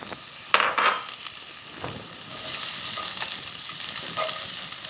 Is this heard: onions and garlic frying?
yes